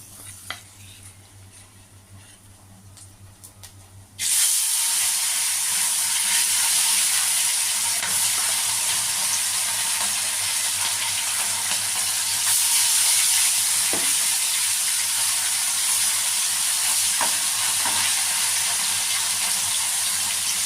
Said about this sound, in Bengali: তেল গরম হয়ে গেছে এবার আমি মাছগুলো অল্প অল্প করে ভেজে নেব